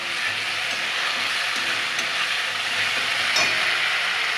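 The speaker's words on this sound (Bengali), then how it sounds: "এটা আবার মশলা কষানো হয়ে গেছে।" Finely chopped spices are sautéed in a pan for masala, producing a loud, continuous, even sizzle and hiss with no voices.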